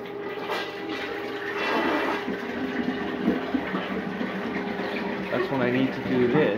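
Toilet flushing with a washcloth dropped into the bowl, a steady rushing, gurgling swirl of water filling the clip at moderate loudness, with faint talk underneath.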